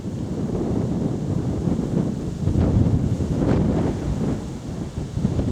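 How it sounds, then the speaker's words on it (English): Wind gusts across flat arable countryside on a walk, buffeting the microphone with a continuous low rumbling roar that swells and eases without any other sounds. "Wind's picked up a bit now,"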